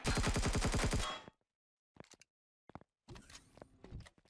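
Turret fire in the sci-fi survival game Empyrion Galactic Survival: a loud rapid automatic burst that cuts off abruptly, followed by scattered sharp shots and a second noisy stretch.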